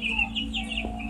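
Chickens at about 31 days old on a poultry farm cluck in a few short, close calls at moderate level over low background hum, with no talk.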